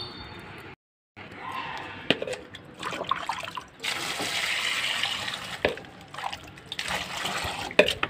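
Gongura leaves being washed in water in a home kitchen, with splashing, sloshing and tap-like running water in bursts, plus sharp knocks and bumps against a vessel, close and fairly loud.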